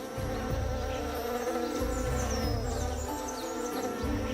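Continuous buzzing of male orchid bees near a bucket orchid on Colombia's Choco coast, mixed with a busy insect drone, steady and fairly close, with no talking.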